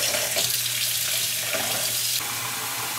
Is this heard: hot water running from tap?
yes